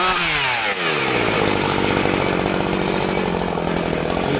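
A chainsaw cuts into a tree on a farm, loud and close, its engine revving up to a high, buzzing whine and holding steady as the chain bites through the wood.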